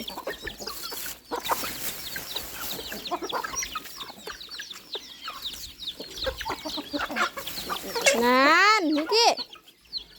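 Chickens on a farm clucking and squawking in a busy, irregular chatter, one bird rising into a loud, drawn-out wavering call near the end, with people talking in the background.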